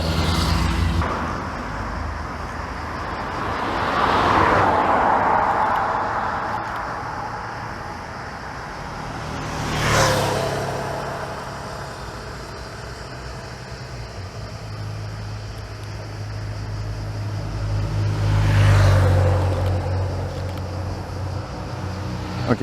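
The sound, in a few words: cars driving past on a road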